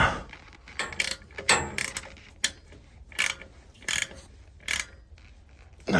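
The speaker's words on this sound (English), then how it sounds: "I love this ratcheting wrench." Ratcheting wrench clicking in short bursts while working on a gas boiler's plumbing, crisp close rattling clicks separated by quiet pauses.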